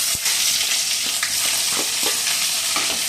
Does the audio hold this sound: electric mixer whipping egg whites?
no